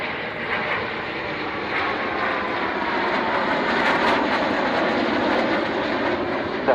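An aircraft makes a low pass over a runway at an air display, its engine roar loud and steady throughout, rising slightly as it passes close by.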